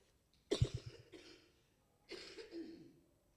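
A sharp cough breaks out, followed by a few shorter coughing bursts, then after a pause a second, softer round of coughing and throat clearing, close and clear against a quiet room.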